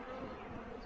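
Honeybees buzz around an open beehive being inspected, a faint, steady swarm drone with no talk.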